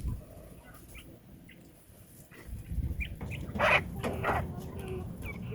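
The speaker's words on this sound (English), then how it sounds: "It's different than a chicken crow, and it's much quieter, but they do have a little crow that they do." Quail in a quail tractor give soft, short crowing calls, several brief chirpy bursts over steady outdoor background noise, quieter and thinner than a chicken's crow.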